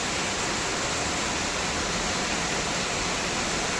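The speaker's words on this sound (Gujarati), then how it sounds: "મારું ગામના કેટલો સરસ મજાનો વરસાદ પડે છે" Dense, steady roar of heavy rain pouring down in Ugamedi village, the season's first rain, constant and loud throughout with no pauses.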